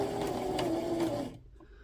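A Brother LX3817 sewing machine runs steadily while stitching a buttonhole, a close, continuous mechanical whir with a faint rhythmic needle tick, then the motor cuts off abruptly and leaves near silence.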